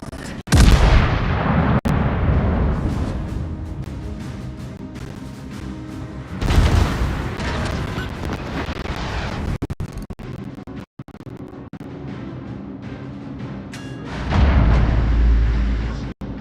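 The 14-inch main guns of the battleship Duke of York fire in World of Warships, booming salvos near and loud at the start, around six seconds and near fourteen seconds, with rumbling decay and engine noise between, and no talk.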